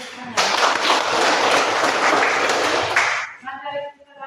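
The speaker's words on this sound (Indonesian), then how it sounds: "Oke, beri tepuk tangan." A classroom full of students breaks into loud, dense applause that lasts about three seconds and then stops abruptly. A voice speaks right after the clapping ends.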